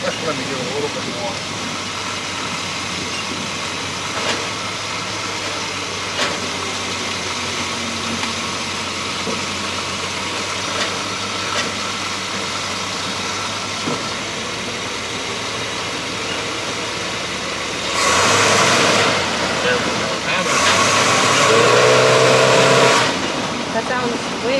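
A 1975 GMC Vandura engine runs after a power steering pump replacement: a steady idle drone, then two loud revving surges near the end, with people talking over it at times.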